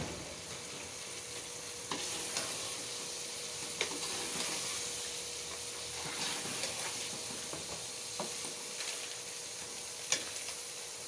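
Boiled chickpeas frying with masala in a pan for a chickpea biryani, a quiet, continuous sizzle with occasional soft clinks and scrapes from stirring, and no voices.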